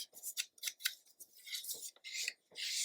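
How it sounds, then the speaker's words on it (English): Paper trimmer slicing scrapbook paper, a series of crisp close hissing cuts in quick succession followed by a longer sliding cut, quiet overall. "I like to get the thin strip in and then trim out the second half"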